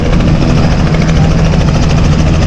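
A nearby helicopter drones and whirs steadily, its blades pulsing under a dense, loud engine roar with no talking.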